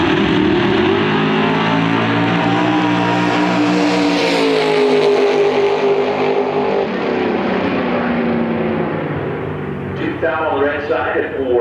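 Drag racing cars roar down the track at a bracket race, a loud sustained engine wail that sweeps and fades, with an announcer talking over it.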